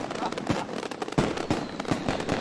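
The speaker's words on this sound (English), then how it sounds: "they're shooting off the fireworks now" New Year's Eve fireworks go off in Moscow in a rapid string of sharp pops and crackling bursts, some louder booms, with voices in the background.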